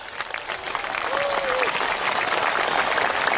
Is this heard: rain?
no